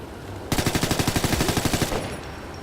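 A picked-up automatic gun in Ghost Recon Future Soldier fires one rapid, even burst of about fifteen shots lasting just over a second, loud and close, then stops.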